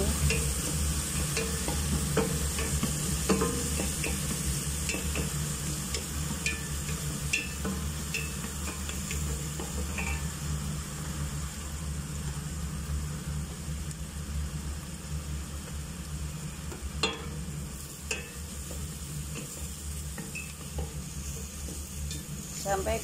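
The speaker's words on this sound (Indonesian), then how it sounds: "Goreng dulu bawangnya." Steady sizzling of onions frying in a pan, with a spoon stirring and occasionally knocking the pan, continuous and close for the whole stretch.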